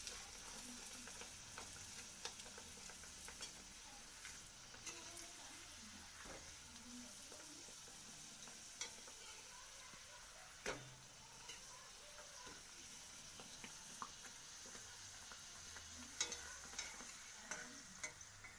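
Green pea kachori frying in oil in a wok, a steady low sizzle and bubbling with occasional scrapes and knocks of a spatula, fairly close.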